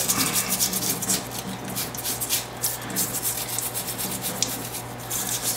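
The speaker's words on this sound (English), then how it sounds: "we'll rinse it off here and scrub it a little bit" Steady scrubbing of light rusty scum off a set trigger's hammer while it is rinsed, a continuous close rubbing and brushing texture with a low running hum underneath.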